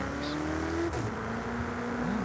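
A 2014 Ferrari California T engine in Forza Horizon 5 holds a steady, smooth drone, with a brief pitch dip as it shifts before settling at a constant hum, with no voices.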